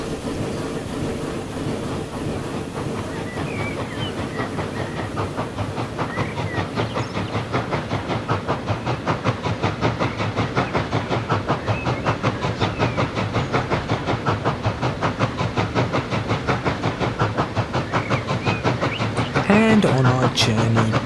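A full passenger train on a UK branch line in Transport Fever 2 rumbles along with a steady, rhythmic clickety-clack of wheels on rail joints for about twenty seconds.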